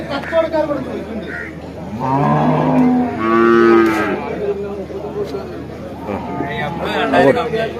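A buffalo moos loudly and close at a busy village cattle market in Kollannur, with long, drawn-out lowing calls over crowd chatter and nearby talk.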